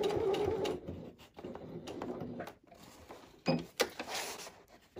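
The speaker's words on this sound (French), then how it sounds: "je vais refaire une piqûre en haut. Et je vais faire un point d'arrêt tout du long" A sewing machine stitches along the top of a fabric tote bag in short whirring runs separated by pauses, with clicks and handling noises, close and moderately quiet.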